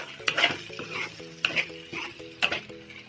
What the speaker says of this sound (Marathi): चांगलं त्या तेलामध्ये असं फ्राय करून घ्यायचं आहे